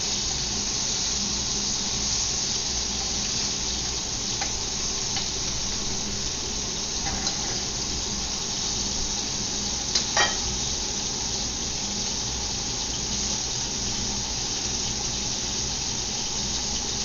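Scallops and shrimp stir-frying in a hot pan, a steady, dense sizzle that holds level throughout, with a few faint clinks and pops rising briefly above the hiss.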